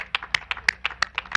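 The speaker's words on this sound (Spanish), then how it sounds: "Un aplauso para las científicas." A few people clap for the scientists at a morning press conference, about nine sharp, evenly spaced claps close by with no talk over them.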